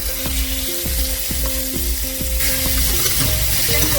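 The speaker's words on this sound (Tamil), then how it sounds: "இந்த ஸ்டேஜில் நம்மளோட சிக்கன் இப்போ போட்டுடலாம்" Chicken pieces frying in garlic-flavoured oil in a pan for Indonesian street-style mie goreng, a loud continuous sizzle with periodic stirring scrapes, close up and without talk.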